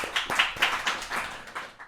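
Small audience clapping for a startup pitch, a short burst of distinct, fairly quiet claps in an uneven rhythm, fading toward the end.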